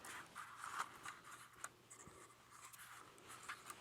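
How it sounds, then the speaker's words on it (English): A DJI Mavic Mini drone being folded up by hand gives soft close scratches, rubbing and light plastic clicks scattered through a quiet stretch, with no talk. "So that's the Mavic Mini. And we'll just fold it right back up."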